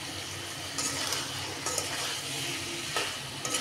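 Half-steamed papaya and egg being stirred and fried in masala with no added water, a continuous close sizzle broken by occasional spatula scrapes and light clinks, with no voices.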